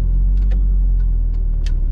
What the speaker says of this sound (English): be behind the steering wheel of a Audi S3 8L BAM engine